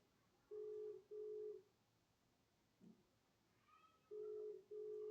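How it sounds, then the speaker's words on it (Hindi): A phone line rings while waiting for the call to be answered, faint and distant: two short paired tones, a pause, then another pair, with a brief muffled sound in between. "ले सुन, रिंग जा रही है ना?"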